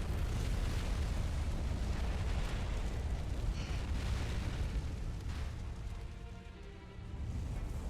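A massive spell-powered bomb detonates in the video game Fuga: Melodies of Steel 3, a loud, sustained roaring blast rumble that dips briefly near the end before surging back, with no talking.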